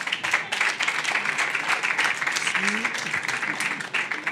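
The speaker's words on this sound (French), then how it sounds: "on peut vous applaudir bien fort déjà" Sustained audience applause at a regional event on women's entrepreneurship in Normandy, a dense, steady wash of many hands clapping throughout with a faint voice murmuring underneath.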